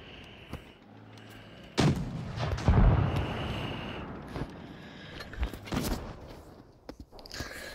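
Tank cannon fire in World of Tanks: two heavy booming shots in close succession, each with a rumbling decay, followed by smaller thuds and clanks over quiet battlefield ambience.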